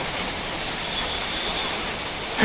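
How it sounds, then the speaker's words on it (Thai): A hard downpour drums across Siam Square, Bangkok, a thick constant roar of rain striking pavement and roofs nearby, with a brief louder splash at the very end. "โอ้โหฝนตกแรงมาก"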